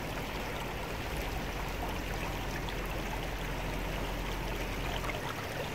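A river stream flows steadily and continuously at close range, where someone is panning for gold, with broadband rushing water filling the whole stretch and no talk.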